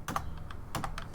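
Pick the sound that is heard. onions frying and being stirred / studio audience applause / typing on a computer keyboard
typing on a computer keyboard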